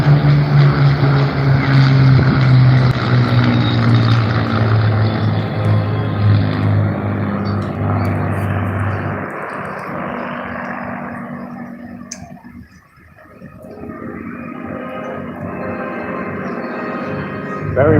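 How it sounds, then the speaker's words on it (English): A Spitfire and a Hurricane, World War II fighter planes at a seaside airshow, pass by with loud propeller-engine drone that swells and then fades into distance, leaving quieter crowd ambience. "please welcome the fighter pair, Spitfire and Hurricane"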